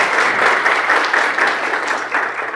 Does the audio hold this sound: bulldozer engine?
no